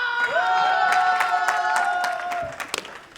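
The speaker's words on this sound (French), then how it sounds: "Applaudissez pour ça." Crowd at a French comedy show applauding and cheering, scattered claps and whoops rising under a loud sustained musical tone that cuts off near the end, leaving a few last claps.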